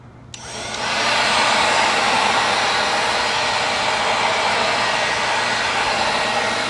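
Cordless leaf blower running steadily in an entryway, blowing leaves out; a loud continuous whooshing airflow that starts after a brief quiet moment and holds level to the end, with no talking.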